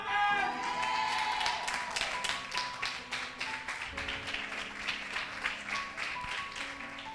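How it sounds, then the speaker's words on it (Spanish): Audience applause in a church during a sermon: a steady patter of many hands clapping, fairly close and even, with a background hum and some musical tones sustained underneath. "Yo no sé qué pensar de los que no aplauden, ni sé qué pensar de los que aplauden así"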